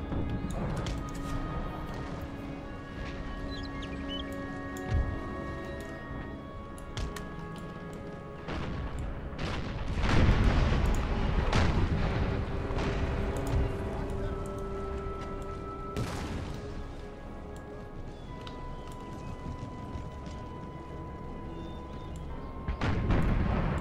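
Mortar and artillery fire in the Empire: Imperial Splendour strategy game, with repeated booms and gunfire thuds over a steady battle din, growing heavier around the midpoint.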